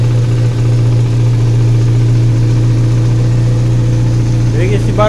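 A VW Gol 1.6 CHT engine idles loudly through a holed exhaust with a steady, droning low rumble that stays constant throughout, up close, with a voice briefly heard near the end.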